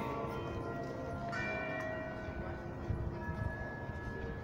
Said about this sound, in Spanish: ¿por qué sonó la campana?